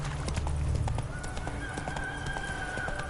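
A horse gallops in a video game, its hooves clip-clopping rapidly at close range, with a whinny and a low rumble early on and soft game sounds underneath.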